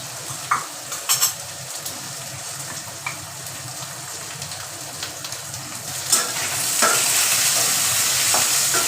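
Taro stolons frying in hot oil in a wok with salt and turmeric, a steady close sizzle broken by scraping stirs and a few sharp clinks of a utensil against the pan; the frying grows louder near the end.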